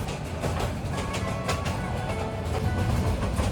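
Jamuna Express passenger train running on tracks on the Dhaka to Jamalpur route after leaving Joitpur station, a steady close rumble with faint rhythmic clatter throughout and no talk.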